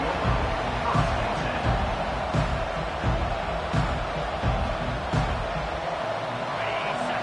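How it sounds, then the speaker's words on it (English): A stadium crowd at a college football game between Mizzou and Notre Dame keeps up a broad, continuous roar with rhythmic swells, heard from within the stands. "The roar of the crowd trying to fuel this defense to keep them pinned in their own end."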